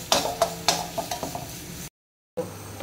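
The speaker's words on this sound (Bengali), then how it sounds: "এবার নারকেলটা দিয়ে আমি ভালো করে ভাজবো" Grated coconut frying in a pan for a kochu shaak dish with fish head, stirred with a spatula in quick scraping strokes over a soft sizzle, then a brief cut to silence before stirring resumes.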